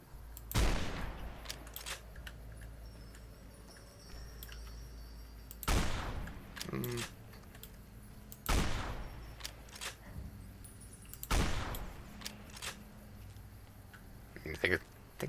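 Gunfire with incendiary rounds in Fallout: New Vegas comes as four heavy, booming bursts spaced a few seconds apart. Each blast is loud and close, with a crackling tail, and a voice talks quietly in the gaps between shots.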